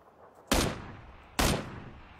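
Two loud, sharp gunshots crack in PUBG, about a second apart, each with a short decaying tail, over a quiet background.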